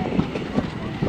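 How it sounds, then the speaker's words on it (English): A heritage train with an LMS locomotive and LMS-livery carriages at the Ruddington depot, rumbling along with low rolling noise and periodic wheel thumps, while someone talks over it. "This train is marked as LMS. Well, the locomotive's LMS, and the carriages are in the LMS livery."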